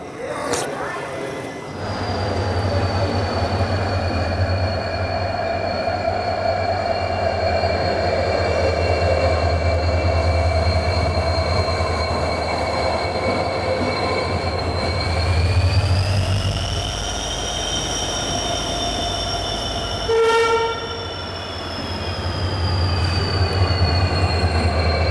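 The Parli–Purna passenger train rolls up to platform 2 at Parbhani Junction. A loud, steady rumble of wagons runs under high, drawn-out wheel squeals, with a sharp clank near the end. Someone talks over the train for much of the time.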